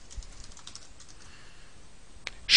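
Light, quick keystrokes on a computer keyboard while a reply message is typed in messaging software, soft and scattered over a quiet background, ending with a brief louder click.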